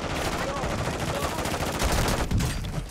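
Rapid automatic gunfire in Warzone 2 rattles on in a dense, continuous burst with a few heavier cracks near the end, loud and close against a busy game background.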